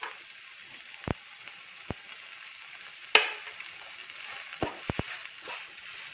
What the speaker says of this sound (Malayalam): നന്നായി മിക്സ് ചെയ്യുക.